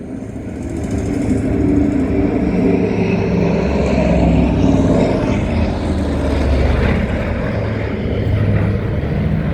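Lockheed C-121C Super Constellation propeller airliner flying at an airshow, its piston engines and propellers giving a loud, steady droning roar that holds throughout, sounding close and continuous.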